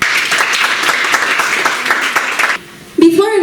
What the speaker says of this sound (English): A great applause for her.